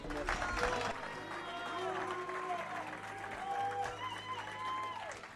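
A church congregation breaks into sustained applause and cheering to acclaim God. The clapping is a steady wash, with voices calling and singing over it throughout.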